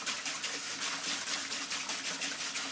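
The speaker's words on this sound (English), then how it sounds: "So I'll rinse it off till it brings it down a little bit to where I think I might want it." Tap water runs in a steady, full gush while a lace closure is rinsed after bleaching, a constant close splashing hiss with no voices.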